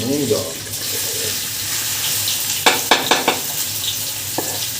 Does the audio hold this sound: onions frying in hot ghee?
yes